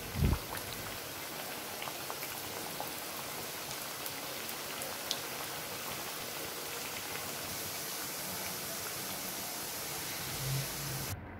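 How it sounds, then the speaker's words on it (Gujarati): A soft, even hiss and patter of churma muthiya dumplings deep-frying in hot oil in a kadai continues steadily, with a brief thump at the start. "તેલ ગરમ થાય એટલે આપણે તેમાં મૂઠિયા નાખીશું"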